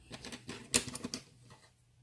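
Scissors snip through folded paper rectangles in a quick run of close, crisp cuts, with one sharper snap in the middle and then quieting.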